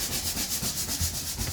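Steady rhythmic sanding, a raspy back-and-forth scrubbing that repeats in even strokes, close up and without voices.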